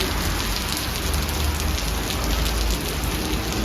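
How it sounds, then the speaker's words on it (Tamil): Heavy rain with strong wind lashes Chennai during Cyclone Fengal, a dense, steady roar of downpour that holds evenly throughout with no voices. "right now high wind with heavy flow of rain செஞ்சுட்டு தான் இருக்குது"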